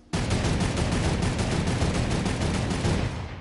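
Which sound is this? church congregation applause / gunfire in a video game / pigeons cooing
gunfire in a video game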